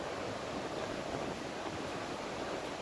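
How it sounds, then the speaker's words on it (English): Water pouring into a reservoir beneath a footbridge, heard from the bridge above as a constant broad rushing roar, steady and moderately loud throughout with no talking. "right over the top of where the water's pouring in"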